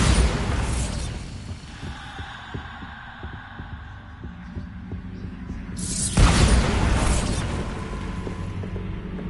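A Bombarda explosion spell going off in a Harry Potter-style video game, heard as a sudden loud booming burst with a long rumbling tail, set amid a constant low throbbing game-music backdrop.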